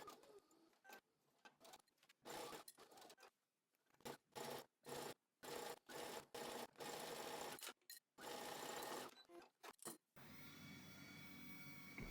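Sewing machine stitching a fabric laptop sleeve, running in close, loud bursts of rapid mechanical whirring separated by short pauses, then a steadier, quieter hum at the end.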